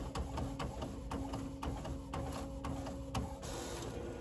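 An Epson WF-7720 sublimation printer runs steadily, a continuous mechanical hum and whine broken by a regular series of sharp clicks and thumps as it drums through a job, close and moderately loud with no talking.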